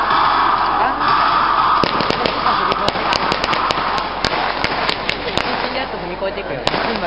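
Matchlock guns fire in a ragged volley at a Sengoku-era festival in Toyama, over a dozen sharp loud cracks in irregular succession against steady crowd noise and a loudspeaker voice.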